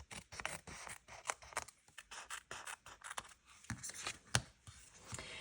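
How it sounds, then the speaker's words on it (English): Scissors trim paper edges for a handmade card, a quiet run of close, crisp snips and rustles in irregular bursts. "we'll just trim off this extra along the sides"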